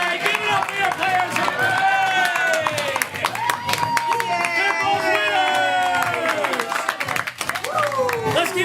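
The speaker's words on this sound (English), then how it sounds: "Let's keep an applause going for all our volunteers" A live audience at a game-show event claps and cheers for the players, loud continuous clapping under excited shouts and whoops, with voices calling out over the crowd.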